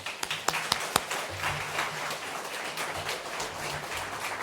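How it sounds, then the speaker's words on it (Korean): A church congregation at a Sunday service welcomes a missionary to the pulpit with applause: a few scattered claps at first, then steady, moderately loud clapping from the whole room. "우리 나오실 때 우리 박수로 환영하겠습니다."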